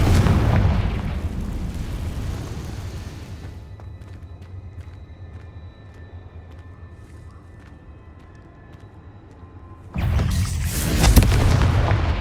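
Confringo fire spell explosion in the video game Hogwarts Legacy: a loud booming burst that decays into faint crackling, followed near the end by another sudden, heavy blast.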